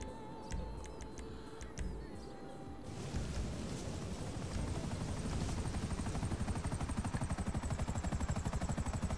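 A helicopter in GTA V starts up after a few seconds of quieter game sounds. Its rotor settles into a steady, loud, rhythmic thumping that continues to the end.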